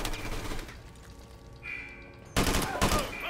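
Gunfire in Call of Duty: Modern Warfare Remastered, a sharp burst of shots cracking in near the end after a quieter stretch of game ambience, with a voice briefly heard.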